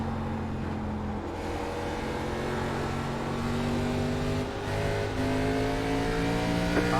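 Race car engine in the iRacing sim during a K&N National Series race at Five Flags, a steady loud droning roar with rising pitch as it accelerates, another car running alongside throughout.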